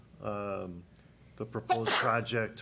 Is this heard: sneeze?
yes